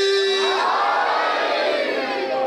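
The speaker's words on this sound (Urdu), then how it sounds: "جس نے زبان خیرات میں لی ہے علی بادشاہ سے یا علی کا نعرہ لگانے کے لیے مل کے حیدری" A congregation at a Muharram majlis in an imambargah in Lahore shouts a Haideri slogan together, a loud, dense massed roar of voices sustained throughout with rising and falling pitch.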